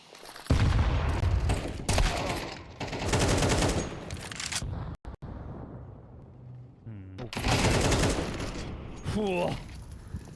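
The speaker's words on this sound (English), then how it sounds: "A trio of headshots from these AK-47s." AK-47 rifles fire in bursts during a Counter-Strike match, with rapid automatic volleys mixed with game effects and a caster talking over much of the action.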